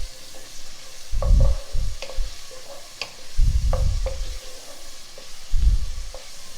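Cumin seeds in hot oil for baingan bharta, with a faint steady sizzle under repeated low thumping stirs and scraping in the pot, close by.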